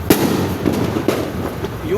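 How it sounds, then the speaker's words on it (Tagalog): New Year fireworks burst in several sharp pops and crackles at irregular moments, heard from a house rooftop under a steady wash of distant firecracker noise, with a voice talking nearby. "Fireworks yan mga idol."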